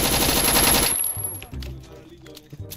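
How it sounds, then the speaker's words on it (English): Mag 10 gunfire in the Roblox game Hood RP, a dense rapid burst of loud close shots that cuts off abruptly, followed by a few scattered quieter thumps. "that kid just pulled out a Mag 10 and started beaming"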